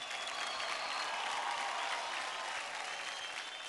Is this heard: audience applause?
yes